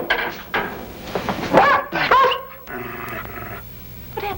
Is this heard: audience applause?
no